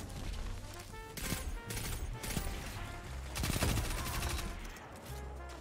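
Pulse rifle fire in an online shooter game, short clustered bursts of shots popping in a steady rhythm across the whole stretch, loud and close, with a thick low rumble and faint game effects underneath.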